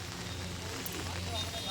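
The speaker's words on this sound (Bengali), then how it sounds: "কি করব, বৃষ্টির আর থামার আর নাম নেই।" Steady rain falls outdoors during a heavy downpour, a continuous broadband patter with low rumble beneath, fairly close and unbroken throughout.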